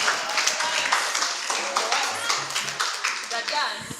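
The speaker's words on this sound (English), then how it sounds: "Please give him a round of applause." Audience applause at a work readiness boot camp for young women, as a session speaker is welcomed before lunch; dense, steady clapping fills the whole stretch with a few louder taps, while voices talk quietly underneath.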